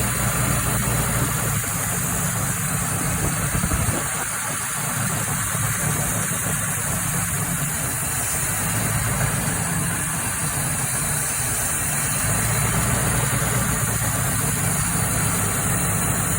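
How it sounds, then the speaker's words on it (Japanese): Toyota Crown MS100 with a carbureted engine, running steadily at idle after starting, a continuous low, dense rumble with a brief dip partway through and no talk. "ブレーキクリーナーをスターターの回り始めに、少し噴射してエンジンをかける方法でやってみたら、"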